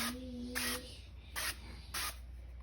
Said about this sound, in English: I'm going to do the spray oil just so they don't end up too greasy.